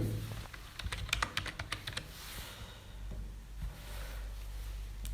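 Rapid keystrokes on a computer keyboard as a one-time bank code is entered for an online PAN card application, a quick burst of close clicks followed by quieter room hum.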